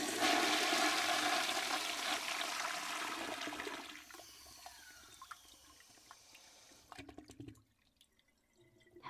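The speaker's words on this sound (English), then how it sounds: "I cannot forget to do the flush sound effect this time." A toilet flushes with a loud rushing surge that gradually fades into trickling and dripping as the tank refills, followed by quieter scattered clunks and drips near the end.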